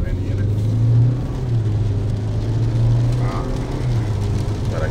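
A Cupra Formentor 1.5 TSI DSG with 150 hp in sport mode hums as its engine climbs through gears, a steady low drone swelling and dipping, while people talk over it inside the cabin.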